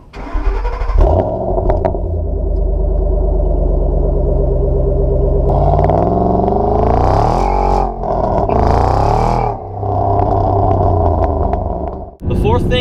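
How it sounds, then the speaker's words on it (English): Supercharged Ford Shelby GT500 V8, tuned to 663 wheel horsepower, idling with a steady low rumble, then revving in rising and falling sweeps with a whine on top, loud and close, with voices talking over parts of it. "you got the supercharger whine, and it sounds like pure American V8"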